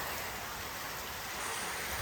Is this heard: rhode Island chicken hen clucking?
no